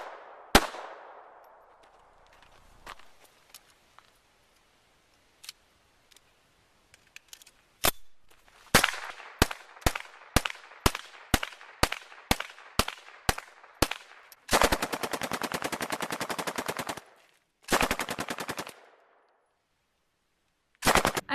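Firearms shot at a tactical training range: sharp close gunshots, first scattered single shots, then a steady run of evenly spaced rounds and two rapid bursts, with quiet gaps between strings.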